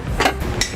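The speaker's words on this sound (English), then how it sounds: "we'll just keep tightening until we hear that click" A torque wrench clicks twice at its 100 foot-pound setting while trailer hitch bolts are tightened on a 2014 Jeep Patriot; two short, sharp metallic clicks sit close by over low background noise.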